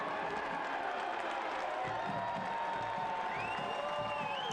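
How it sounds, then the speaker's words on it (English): A football stadium crowd at a Monterey Bay F.C. match keeps cheering after a penalty save, heard as a broad, steady roar with scattered whoops, fairly distant and unbroken. "You can hear the crowd still cheering in the background for the penalty save"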